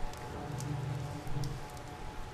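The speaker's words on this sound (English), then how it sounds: "Still raining." Rain pours in the Silent Hill Downpour video game, a soft, steady patter of drops on the ground with a low hum underneath, faint and even throughout.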